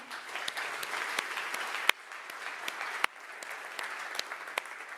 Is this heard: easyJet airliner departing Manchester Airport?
no